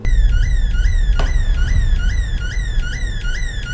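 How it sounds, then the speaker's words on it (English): A rising and falling electronic siren wails repeatedly and steadily over a low rumble, with a brief sharp click partway through. "The siren."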